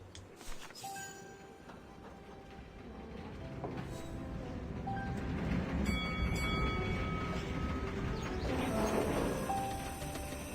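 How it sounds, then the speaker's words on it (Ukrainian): A tram pulls in within the Syberia: The World Before video game, a steady rolling rumble that swells as it nears, with squealing wheel tones and faint birdsong over it. "Лісабонський трамвай приїхав."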